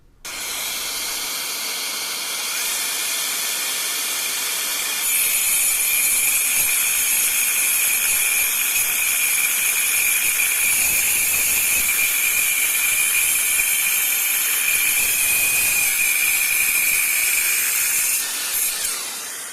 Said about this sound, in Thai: มาลองตัดไม้ที่มีตะปูคาอยู่นะครับ อันนี้ผมตอกตะปูตัวใหญ่มากนะครับสองตัวเข้าไป เดี๋ยวลองตัดดูครับผม